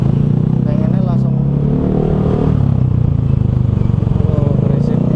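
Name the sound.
noisy motorcycles passing on the street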